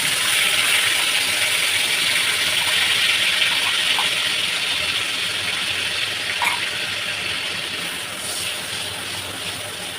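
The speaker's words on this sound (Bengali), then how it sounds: "এবার আদা কাঁচা লঙ্কা টমেটো কাজু পেস্টটা আমি ফোড়নে দিয়ে দিই" A paste of ginger, green chili, tomato and cashew sizzles in hot oil for doi potol, giving a loud, steady hiss that eases slightly toward the end.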